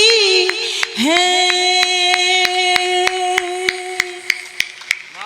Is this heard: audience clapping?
yes